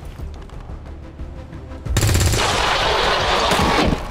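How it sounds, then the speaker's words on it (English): Automatic gunfire in the video game XCOM 2 erupts after a quieter lead-in, then continues as a loud, dense, sustained burst of rapid shots lasting about two seconds. "So we're gonna shoot at him."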